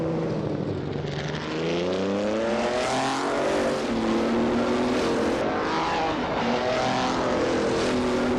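Vintage Vanwall VW5 race car in a racing video game, its engine roaring loud and continuous with rising and falling pitch as it accelerates and shifts through gears, with other car engine noise blended in.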